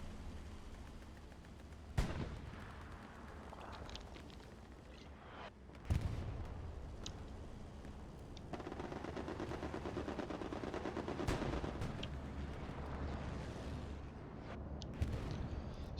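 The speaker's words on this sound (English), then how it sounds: "Strafing run and a bombing run." Aircraft strafing and bombing run in Hell Let Loose, with steady loud roar and rumble of battle, sharp impacts near the start and scattered explosions and gunfire throughout, no voices.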